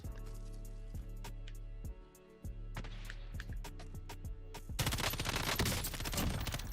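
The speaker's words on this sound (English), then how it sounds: "I want to know what this dude is shooting at." Call of Duty Warzone gunfire crackles in rapid bursts, with steady game hum and ambience underneath and a heavier, denser fusillade in the final seconds.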